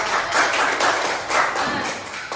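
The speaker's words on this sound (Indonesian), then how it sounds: "Bagus, tepuk tangan dulu buat kelompok 3." A school class claps for a student group in a classroom, a dense, steady burst of handclaps close by that swells in a few waves and carries on throughout without talk.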